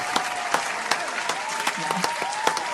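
A small group claps steadily with several sharp individual claps standing out at a regular rhythm, over a continuous hum and some faint voices.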